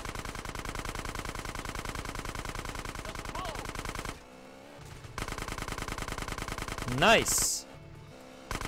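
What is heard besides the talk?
machine gun fire in video game GTA San Andreas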